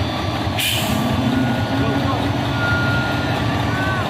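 A heavy trailer truck idles and rumbles nearby as it struggles and reverses, with a sharp hiss of released air brakes early on and a faint high tone later.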